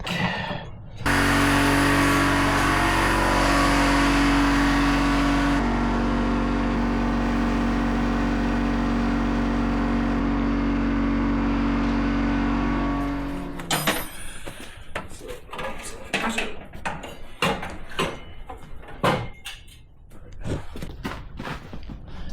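A lawn mower engine starts and runs steadily at a loud, even drone for about twelve seconds, then cuts off into clattering and handling noises.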